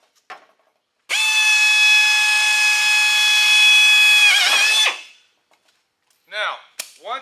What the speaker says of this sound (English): So I'm going to cut a hole out, and it's not going to be a big hole